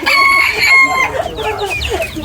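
Chickens cluck steadily while a rooster crows loudly up front, with more squawks and clucks following from a busy flock.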